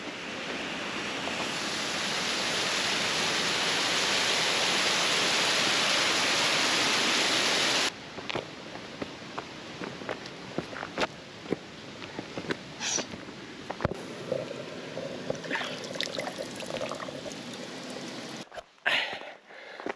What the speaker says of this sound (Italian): accompagnati dal fragore dell'acqua e delle cascate